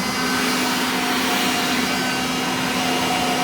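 A Kirby Heritage II upright vacuum cleaner motor runs steadily at high speed with the hose in use, a constant whine with a strong tonal hum, loud and close with no other sounds.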